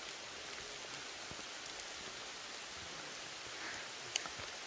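Steady rain falls through a Himalayan forest in Nepal, a dense, even hiss of drops on leaves and ground with a few sharper nearby drips, no voices.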